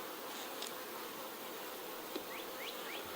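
Honey bees buzzing faintly at a backyard hive, a low steady drone with a few brief higher whines of individual bees flying past close by.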